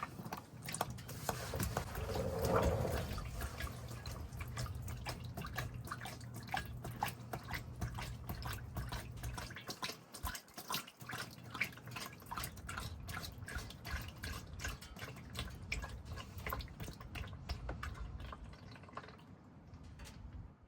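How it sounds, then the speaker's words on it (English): Transfer case fluid drips from the drain of a Ram 2500 with a 6.4L HEMI into a catch container. The close, irregular drops patter continuously for about twenty seconds. "Let it start dripping a little bit."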